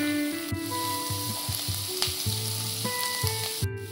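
Chopped capsicum and cabbage sizzle steadily in a hot pan while a spatula stirs them, with repeated scraping strokes about every half second over the constant frying hiss, close and clear with no talking.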